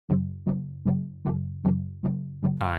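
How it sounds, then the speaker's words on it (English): A virtual guitar from the UJam Virtual Guitarist Sparkle plugin plays seven evenly spaced plucked chord hits, each decaying before the next, with a brighter shimmering strum at the very end. "and it's the virtual guitarist Sparkle."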